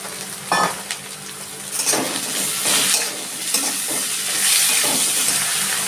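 Prawns frying in hot oil with onions in a pan, a loud close sizzle with repeated stirring scrapes and clinks of a utensil against the pan, with no talk.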